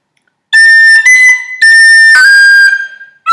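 Variation phrase 3 of Scatter the Mud (Scaip An Puiteach) played on tin whistle: a handful of crisp, bright notes in a lively rhythm, the final one sustained and tapering off, with no voices.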